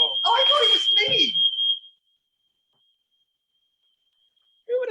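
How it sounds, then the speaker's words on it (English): A kitchen smoke alarm set off while hummus is being made sounds a steady, piercing high tone under loud talk from several people, then cuts out after about two seconds, leaving silence before speech resumes. "Who would have thought making hummus would set your fire alarm off?"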